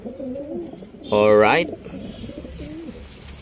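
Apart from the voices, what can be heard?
pigeons cooing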